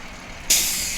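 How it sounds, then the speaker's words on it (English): Kingston's Engine 1 fire truck rolling past in a Christmas parade, a sudden sharp air-brake hiss bursting out midway over low engine rumble, close and loud. "Now we got a good looking fire truck coming up here."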